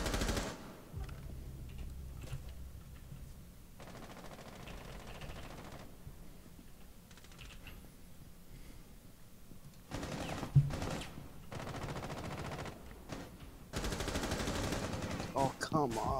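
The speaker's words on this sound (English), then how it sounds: "God, so many shots going off, I'm scared." Gunfire in a round of Rainbow Six Siege, with scattered shots and bursts that come and go, loudest near the end, while a player talks over parts of it.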